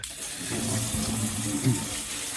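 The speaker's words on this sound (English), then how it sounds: "I'm going to give this a hose out too, and then just let it dry" A water hose rinses out a boat's anchor chain locker, a short steady splash and gurgle of running water at moderate volume with no talk.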